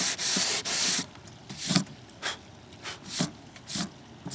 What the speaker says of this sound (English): as soon as I start to touch those with the paper, I'm done sanding